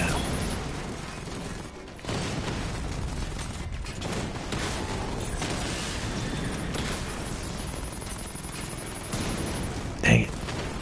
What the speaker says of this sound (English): This is gonna be a long tank battle.